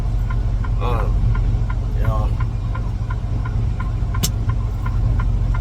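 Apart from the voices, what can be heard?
truck engine idling, revved up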